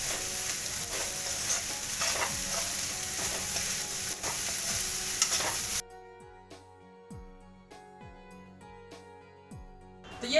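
Keto sprouts seasoned with black salt and sugar are stirred in a pan with a steady scraping sizzle, which drops to quieter scattered spoon clinks against the pan partway through.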